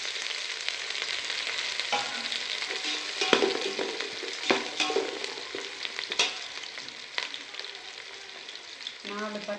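Onions sizzle and fry steadily in hot oil with whole spices such as cloves and cardamom in a pan for mushroom biryani, with scattered clinks of a spoon stirring through the close, continuous hiss.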